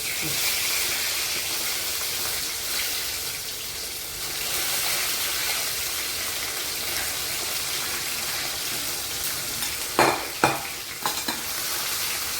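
Corn kernels fry in oil over low heat in a pan while being stirred, a steady close sizzle throughout with a few sharper scraping stirs near the end; no speech.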